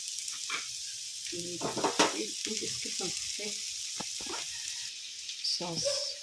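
Noodles fry in a hot pan with a soft, steady sizzle. Quiet scraping and stirring knocks sound over it, and a voice talks intermittently.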